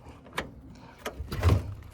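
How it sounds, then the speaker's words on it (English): The door of a 1972 VW Super Beetle opens and shuts with a few faint, short clicks and clunks, quiet and close, ending with a dull thud of the latch. "I haven't checked if the door still opens properly."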